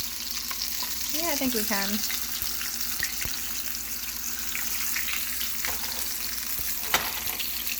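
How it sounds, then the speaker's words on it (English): Zucchini sizzles steadily in hot olive oil seasoned with salt and pepper, a constant crackling fry with occasional utensil taps while a person speaks briefly over it. "I'm just gonna cook it for a few minutes, face side down, just in that olive oil with the salt and pepper."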